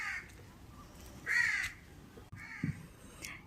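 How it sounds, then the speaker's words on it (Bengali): Crows caw outdoors in Goa, giving several harsh calls spaced apart, one louder and nearer, with no talk. "সমানেই কাকগুলো ডাকতে থাকে"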